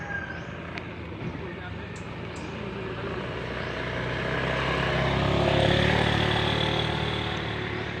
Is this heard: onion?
no